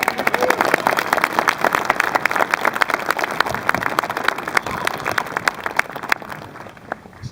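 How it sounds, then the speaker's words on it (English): An audience at the Huell Howser memorial at Griffith Park Observatory breaks into sustained applause, dense clapping from a crowd that gradually thins and fades toward the end. "yeah, that's worth a round of applause"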